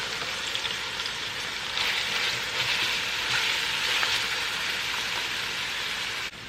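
Vegetables sizzle steadily in a hot pan on the stove while a Jamaican patty filling is prepared, a dense, even hiss that holds at a constant level throughout without voices.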